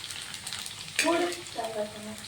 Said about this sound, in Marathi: किती फुगल्यात बघ तेल गरम झालेलं असल्यामुळे